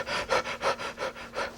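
A person breathing deeply and rhythmically, moving lots of air in and out with about five fast, loud, close panting breaths in quick succession.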